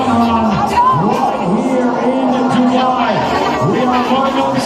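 A huge crowd of runners and spectators at the Dubai Run 2025 fun run cheers and whoops loudly, with overlapping shouts and chatter close by.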